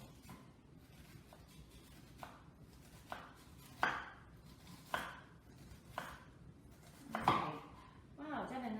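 A knife slices through an onion on a cutting board in a series of soft, evenly spaced chops, faint and close, while people talk quietly in the background.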